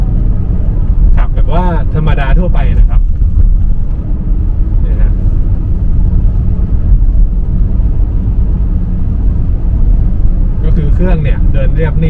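BMW E39 523i engine running on LPG while driving, a steady low rumble from inside the car with someone talking over it for much of the time.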